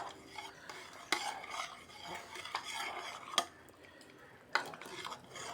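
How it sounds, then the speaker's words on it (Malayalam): Sambar seasoned with Kashmiri chilli powder being stirred in a pot, a soft wet swishing broken by a few sharp clinks of a spoon against the metal rim, fairly quiet and close. "ഇനി നമുക്ക് എല്ലാം കൂടി ഒന്ന് ഇളക്കി യോജിപ്പിക്കാം"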